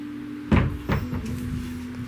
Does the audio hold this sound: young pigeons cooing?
no